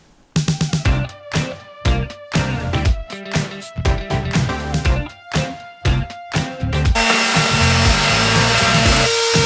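A saw cuts a few inches off a wooden bar stool base in quick, rasping back-and-forth strokes that run together into a continuous loud grinding cut, close up.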